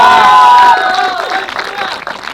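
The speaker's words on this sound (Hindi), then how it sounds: "सो एक बार फिर से तालियां हो जाए इस परफॉर्मेंस के लिए।" Wedding guests at a sangeet function applauding and cheering after a sung performance, a loud burst of clapping and shouts over lingering music that fades into scattered claps and crowd chatter.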